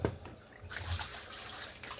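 Tap water runs steadily while dishes are rinsed off in a home kitchen sink, a continuous close splashing wash with brief clinks.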